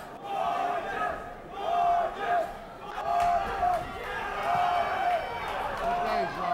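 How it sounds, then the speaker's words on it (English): A boxing arena crowd chants a boxer's name in rhythmic rising waves, loud and sustained, with a commentator talking over it. "And the crowd picks up the chant of Gorges."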